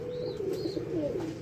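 Pigeons cooing in a breeding loft, a continuous close rolling coo with wavering pitch, with a couple of thin higher chirps above it.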